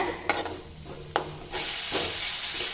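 Grated coconut stirred and fried in a pan for a Kongu-style lentil thuvaiyal, with a couple of quick scraping strokes against the pan followed by a rising, steady sizzle, close and clear, with no talk.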